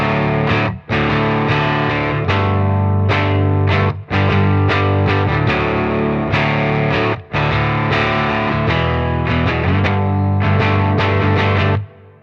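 Electric guitar strummed through the Vintage Vibe amp-simulator plugin on near-default settings, a loud, driven midwest-emo tone with ringing sustained chords, several brief stops and restarts, played alone without talk.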